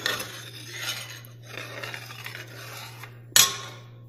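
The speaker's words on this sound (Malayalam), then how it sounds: "ഒരു സ്പൂൺ കൊണ്ട് ഇതെല്ലാം കൂടി ഒന്ന് നന്നായിട്ടൊന്ന് മിക്സ് ചെയ്തെടുക്കുക" A spoon stirring a drumstick soup mixture, producing soft close scraping and rubbing swirls against the pot over a steady low hum, ending with one sharp clink of metal.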